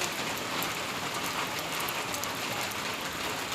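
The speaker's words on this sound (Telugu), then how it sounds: "వర్షం పడిపోతుంది" Rain pounds a metal sheet roof in a steady, dense patter with a sharp rattling edge, loud and close, falling right through the first rain of the year with no voices over it.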